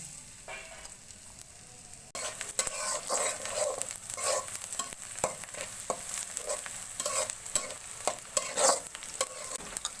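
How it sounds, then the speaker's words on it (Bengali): Sliced onions and green chilies fry in hot oil in a wok. The sizzle jumps louder after a couple of seconds and keeps crackling steadily, with frequent stirring clatter and no talking. "প্রথমে পেঁয়াজ আর কাঁচামরিচগুলো ভেজে নিব।"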